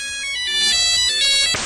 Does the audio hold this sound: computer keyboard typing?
no